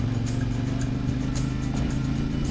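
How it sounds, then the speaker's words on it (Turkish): A CFMOTO 450MT motorcycle cruising on a day tour through the Kazdağları mountains, its steady engine drone loud and constant alongside wind rush and occasional clatter, with no talk. "Motorumuz CF Moto 450 metre. Keyifli bir yolculuk sunuyor bize."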